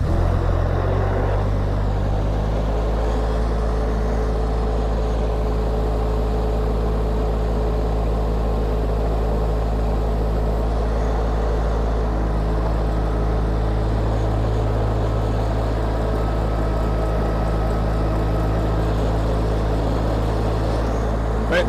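A Huayee HY680C mini skid steer with a Kubota diesel engine runs steadily, its low, constant mechanical drone loud and unbroken throughout.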